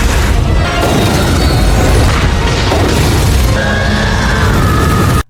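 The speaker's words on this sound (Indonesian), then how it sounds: "Seketika roket itu pun meledak" A rocket explodes in the Venom film, a loud continuous roaring blast with rumbling debris and crackle that holds at full strength before cutting off abruptly.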